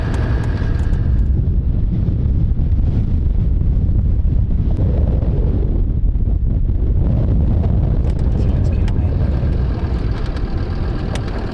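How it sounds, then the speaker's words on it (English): Strong, steady wind on the Baja California coast buffets the microphone in a constant low roar, with no voices, lasting throughout. "It's too windy."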